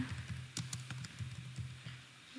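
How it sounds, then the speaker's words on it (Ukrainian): Quick, light clicks of typing on a computer keyboard followed by a firmer Enter key press, close and fairly quiet over a low electrical hum. "я написала слово і натиснула на клавіатурі Enter"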